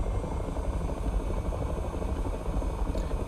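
An AH-6J Littlebird helicopter in DCS running after start-up, its engine and rotor giving a close, steady, throbbing whine and rumble that holds evenly throughout, with no talking.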